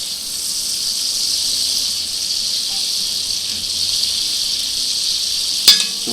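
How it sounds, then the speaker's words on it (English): Butter fizzing and sizzling in the bottom of a pan while lemon chicken is being cooked, a steady close hiss with soft crackle and one sharp clink near the end; no talking. "you can hear the butter starting to fizz and sizzle a wee bit in the bottom of this pan now"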